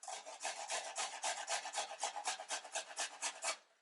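A root being grated by hand, peeled first like a potato, rubbed across a hand grater in steady back-and-forth rasping strokes, about a dozen even scrapes close up, alone with no talk.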